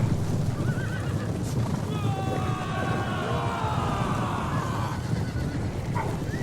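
Light cavalry horses in Total War: Attila ride through city streets, with repeated whinnies and neighs over a steady drumming of massed hooves and battle din, close and fairly loud throughout.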